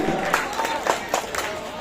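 An audience at a live stage show claps for a dancer. Brief, close, crowded applause comes in uneven bursts, with voices mixed in underneath.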